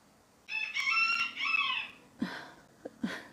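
A rooster lets out a full cock-a-doodle-doo crow, followed by a few short clucking calls, moderately close in a quiet setting.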